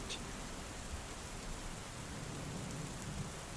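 Steady rain lashing against a window on a stormy night, a dense continuous hiss with faint low rumbles beneath, quiet and unbroken with no voices.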